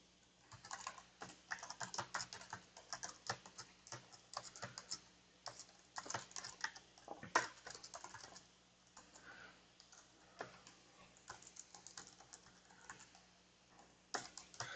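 Typing on a cheap Cherry external computer keyboard gives rapid, irregular bursts of soft close-up key clicks with short pauses between runs, quiet and with no voice over it.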